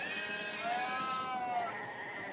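A Valais Blacknose sheep bleats once in a drawn-out, wavering call at moderate distance at an agricultural show, with faint background noise and no other sounds.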